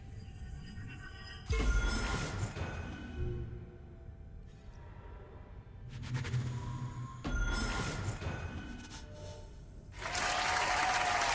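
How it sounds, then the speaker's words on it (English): Fremen crowds applaud during a siege in the digital board game Dune Imperium, with several swelling bursts of clapping and cheering separated by quieter gaps, and the final burst loud and sustained. "these are the Freeman crowds in the siege applauding their new favorite, Ecaz"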